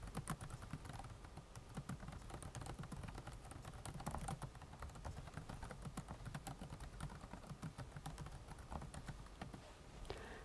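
Fast, continuous clicking of keys on a computer keyboard, quiet and close, with an irregular rhythm of taps and no speech over it.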